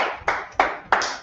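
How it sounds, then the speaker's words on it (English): Audience clapping as a class gathering hands over to a new speaker: four sharp, evenly spaced bursts of claps about a third of a second apart, close and moderately loud, with no talking. "All right, clap it up."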